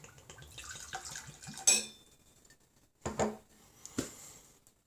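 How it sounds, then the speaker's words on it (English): Crown Royal whisky poured from its bottle, a brief liquid splash and trickle with a sharp clink near the start, followed by two short separate pours or drips, close and fairly quiet with no talk. "give it a nice sturdy, significant pour"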